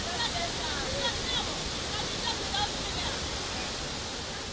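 Aru Falls, a waterfall in Pader district beside the Gulu-Kitgum highway, gives a steady broadband rush of falling water. The roar is even and unbroken from start to finish.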